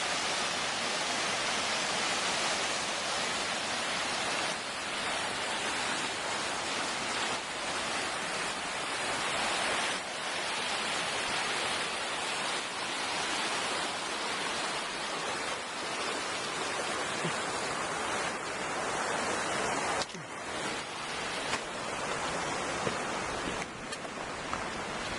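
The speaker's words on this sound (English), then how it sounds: "We've come to a bridge in a stream." A stream on a High Sierra trail rushes under a bridge in a steady, broadband wash of water, loud and close and unbroken throughout.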